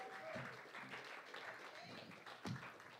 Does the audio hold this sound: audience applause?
yes